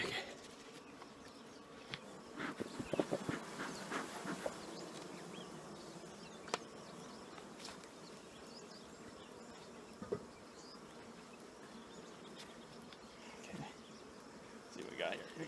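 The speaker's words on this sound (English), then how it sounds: "there's a bunch of bees on the bottom" Honey bees buzz around the bottom of a backyard beehive, a faint continuous drone with occasional louder passes as individual bees fly near.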